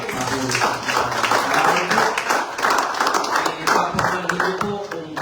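A church congregation applauds during a sermon, a dense, loud, continuous patter of many hands clapping, with voices mixed in underneath.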